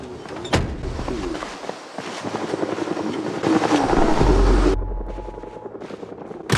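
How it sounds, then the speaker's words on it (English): A helicopter passes overhead in the zombie survival game Project Zomboid, a steady whirring drone that swells louder midway, then cuts off abruptly, followed by a faint electronic tone and game noises. "In the middle of this day, the helicopter event happened,"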